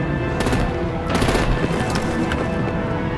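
Heavy automatic gunfire from artillery in the video game Batman: The Enemy Within, a loud, continuous rattling barrage with sharper bursts cutting through a dense noisy background.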